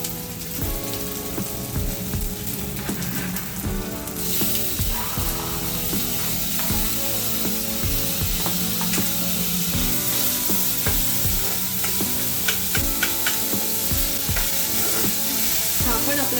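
Tomatoes frying in a pan, with a steady bright sizzle and repeated scraping, clattering stirring strokes throughout, close and busy, growing slightly louder partway through.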